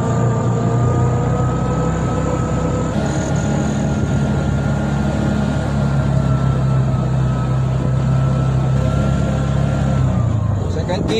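A tuk-tuk engine runs steadily at speed in second gear, a loud continuous drone with a rising whine, close by and without pause.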